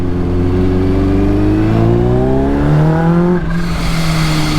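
A Kawasaki H2 motorcycle with a titanium exhaust revs hard up through rising engine pitch, then shifts and settles into a lower, loud, steady roar, heard close throughout.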